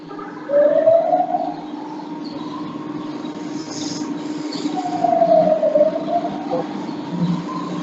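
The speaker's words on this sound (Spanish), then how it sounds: "porque se ha metido una sirena de la policía" A police siren wails with slow rising and falling tones that drift in and out over a steady background hum.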